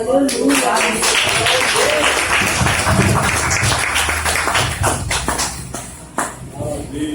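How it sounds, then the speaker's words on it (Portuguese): Congregation applause at a Brazilian evangelical Sunday morning service: dense, loud, steady clapping fills the whole stretch, mixed with voices and crowd shuffle, easing slightly near the end. "Aplauda o Senhor mais uma vez, meus irmãos."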